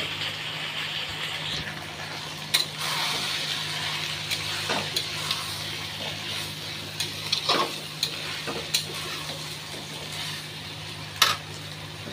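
Lightly fried soybean chunks stir-fried in a pan, a soft continuous sizzle under a low steady hum, with scattered sharp scrapes and taps of a spatula against the pan, close by.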